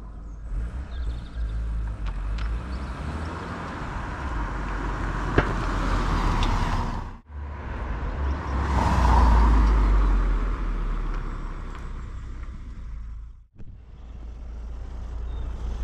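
A Vauxhall Cavalier Diplomat rolls on and off a driveway, its engine note steady and fairly close, swelling as it moves, with two sharp dips where it pauses before pulling away again.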